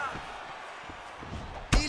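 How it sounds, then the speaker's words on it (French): A body kick lands in the UFC 4 fighting game during a Jon Jones versus Israel Adesanya bout, a sharp loud slap-like impact near the end following softer movement thuds, with a commentator talking over it. "Il le touche au corps avec ce coup de pied."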